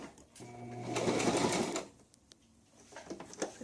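A sewing machine runs a final reverse stitch to reinforce the seam on an inexpensive seat cushion being repaired, a steady close mechanical whir lasting about a second and a half before fading into faint handling noises.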